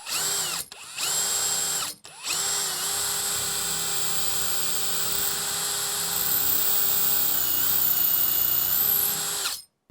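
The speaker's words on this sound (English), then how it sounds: "Just drill it out a little bit more." Power drill boring out a wooden chair leg spindle, a loud steady high-pitched whine that briefly stops twice near the start, then runs continuously up close for several seconds with no talking.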